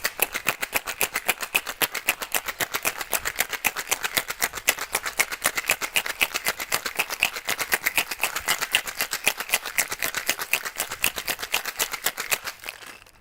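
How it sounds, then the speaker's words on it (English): Ice rattles hard inside a cocktail shaker being shaken vigorously for a gin drink, a dense run of sharp rhythmic clacks against both ends of the shaker, loud and close, lasting over twelve seconds before stopping. "You want to hear the ice hitting both ends of your shaker."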